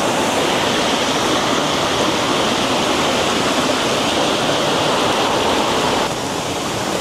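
A hidden waterfall pours into a stream in a wooded spot, a loud, dense, continuous roar close by that barely eases near the end.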